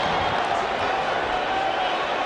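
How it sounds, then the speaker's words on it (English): A large crowd at a 1999 Test cricket match in Barbados makes a dense, steady roar and murmur throughout, with a commentator's voice faintly underneath. "The crowd's in it."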